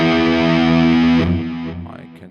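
A guitar chord rings out through a Boss DS-1 distortion model on an Axe-Fx III, thick and saturated with sustain, then cuts off and leaves a brief decaying tail.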